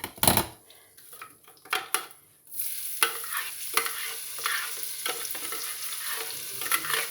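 An onion fries in a pot for bourguignon, a soft steady sizzle under repeated scraping strokes of a utensil against the pot, starting after a few sharp clacks, close and fairly quiet.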